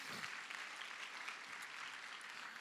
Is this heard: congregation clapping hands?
yes